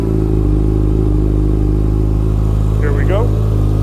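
A Yamaha FJR 1300 motorcycle engine runs at a steady idle close by throughout, its low hum constant while someone talks over it.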